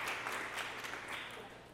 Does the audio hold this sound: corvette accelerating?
no